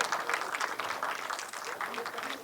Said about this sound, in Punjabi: ਬਹੁਤ ਜ਼ੋਰਦਾਰ ਤਾਲੀਆਂ ਹੋ